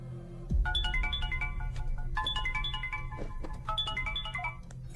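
Incoming-call telephone ringtone plays a repeating melodic chime pattern in three bursts over a low background hum, fairly loud and close, with no talking.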